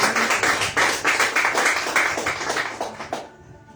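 A church congregation claps in steady rhythmic bursts, loud and near at first, then thins out and fades near the end.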